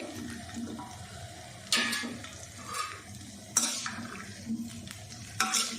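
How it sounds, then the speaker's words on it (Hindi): Large cauliflower pieces fry in hot ghee and oil over high heat, a steady close sizzle broken by a few louder bursts as the pieces are stirred in the pan. "आंच को तेज करके इसको अच्छे से फ्राई कर लेना है 4 से 5 मिनट"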